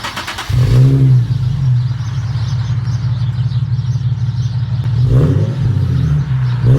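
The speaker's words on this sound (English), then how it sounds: "We'll put it down and then we'll rev it for you guys." A Nissan 370Z with a muffler delete and Nismo tips revs loudly and close by, a deep engine roar that rises at the start, holds steady, then swells again near the end with no talk.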